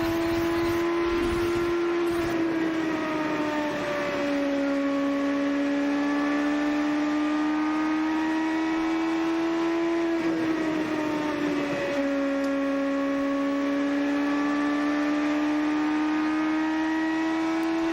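IndyCar race cars circle the Richmond oval during the 2007 Grand Prix, a loud sustained engine whine from a nearby car rising and falling slightly as it drives, with no talk over it.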